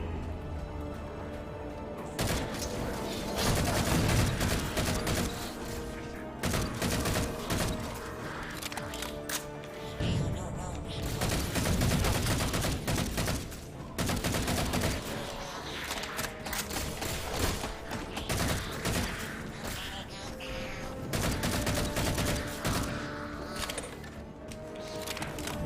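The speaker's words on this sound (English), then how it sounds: "Shooting at a dead body there like a moron." Halo 4 gameplay on Xbox Series X with dense, continuous gunfire: rapid bursts and thuds run steadily through the whole stretch, loud and close, with short dips between volleys.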